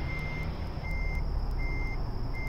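Truck backing a 48-foot reefer trailer in American Truck Simulator, with regular reversing beeps repeating at an even pace over a low engine rumble, moderately loud and without speech.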